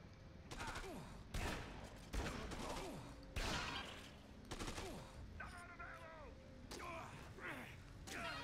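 Rifle gunfire in a zombie video game: repeated loud single shots and bursts spaced across the clip, with clicking mechanical sounds between them and a voice faintly present.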